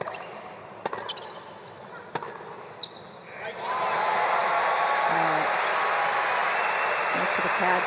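A tennis stadium crowd at a United Cup semifinal bursts into sustained applause after a few ball bounces, the clapping loud and continuous until the end.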